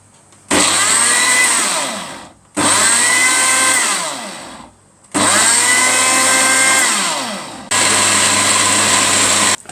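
A blender whirs loudly while blending tomatoes, in four separate bursts, each running a couple of seconds and winding down before the next starts up.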